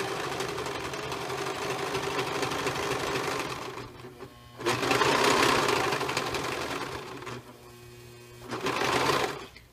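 A sewing machine stitches a mermaid tail in three loud, rapid bursts of running, separated by short quieter pauses, close up with no talking.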